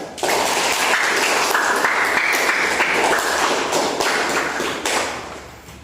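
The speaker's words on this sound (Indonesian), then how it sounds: "Beri tepuk tangan untuk kelompok 1." Classroom applause for a student group after a presentation on stopping bullying, steady dense clapping from many hands, close and loud, tapering off at the end.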